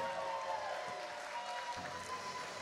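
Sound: audience applause at a wedding celebration

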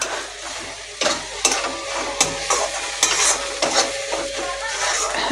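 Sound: tomato masala with cumin, coriander, turmeric, chili powder frying

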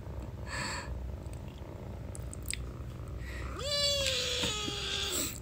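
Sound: cat purring and meowing

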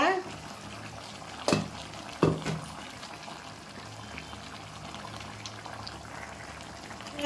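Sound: water poured into cooking pan

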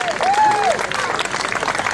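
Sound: crowd cheering and applauding runners at race finish

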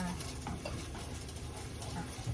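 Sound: coconut milk being stir-fried in a pan

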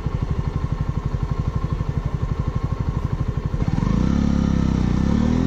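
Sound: motorcycle passing in traffic

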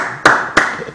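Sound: audience applause

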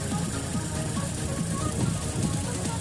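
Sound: car engine running after cylinder head rebuild, VAZ 1118 1.6

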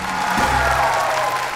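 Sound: audience applause for Jinju

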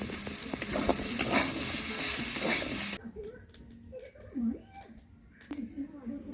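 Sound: potatoes frying in a pan for aloo posto

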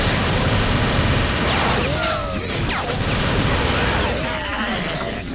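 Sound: grenade launcher explosions in video game TimeSplitters 2

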